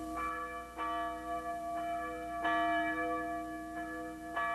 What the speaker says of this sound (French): Nous sommes revenus à la vieille cloche avec son fêlé, mais qui dit beaucoup aux anciens.